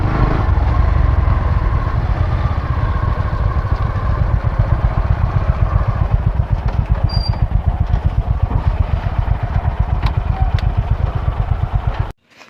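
A motorcycle idles nearby while being parked at the entrance of Mahishadal Rajbari, a loud, steady rhythmic thumping of the engine that stops abruptly just before the end.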